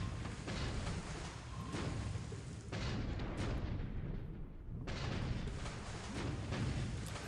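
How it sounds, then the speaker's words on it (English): Depth charges detonate in a naval wargame, War in the Pacific, as a series of long, rumbling low booms that surge and wash over each other, with a brief lull before another blast rolls in. "Depth charges detonate above sub depth."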